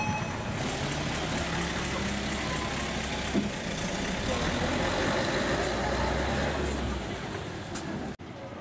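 A bus bound for Yanagawa idles at Setaka Station, its steady low engine rumble close and continuous, with traffic noise around it until it cuts off abruptly near the end.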